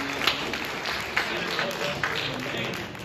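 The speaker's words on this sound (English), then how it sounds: "big round of applause" An audience applauds at a live theatre show at the Stirling Festival Theatre: steady, even clapping that fills the room, with a few louder claps and voices mixed in.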